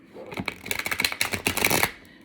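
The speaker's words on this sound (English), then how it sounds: "These ones are really hard to shuffle because they're new." Rapid crisp riffling of a new, stiff deck of cards being shuffled, a dense burst of flicks and slaps close by, fading out at the end.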